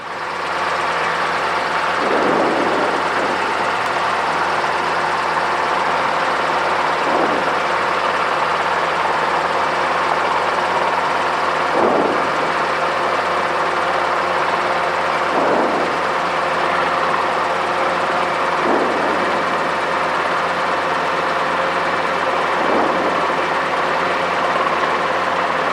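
A Robinson R22 helicopter in flight during training manoeuvres, its rotor and engine drone loud and constant from inside the cabin, with faint periodic swells every few seconds and no talk.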